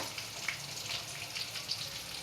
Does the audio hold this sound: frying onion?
yes